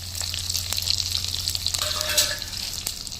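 Fennel, pepper, cumin and big onion frying in hot oil, a steady dense sizzle and hiss throughout with a low hum underneath and a few faint clinks, no speech.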